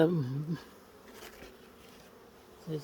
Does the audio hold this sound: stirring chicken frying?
no